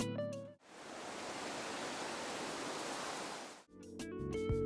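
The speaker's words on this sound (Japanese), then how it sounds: "環境音は田舎なので高原にしておきます。" Highland ambient sound from the Animal Crossing video game: a soft, steady wash of airy, wind-like noise, faint and even, with brief bursts of game music just before and after it.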